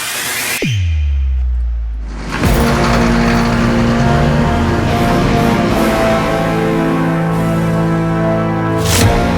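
A heavy truck engine roars loud and close as it drives toward a checkpoint, a sudden swell giving way to a steady, powerful drone with a sharp burst near the end.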